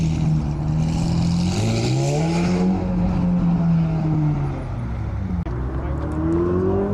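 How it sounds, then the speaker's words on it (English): A Ferrari sports car at a 1990s car meet passes close by, its loud engine note climbing and then falling in pitch as it approaches and moves away, with a steady roar throughout. "There goes the Ferrari."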